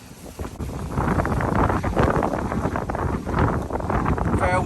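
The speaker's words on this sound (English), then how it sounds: "Very, very windy." Strong wind gusting through a South Florida garden, a loud rushing buffet against the microphone that swells and eases continuously for a few seconds.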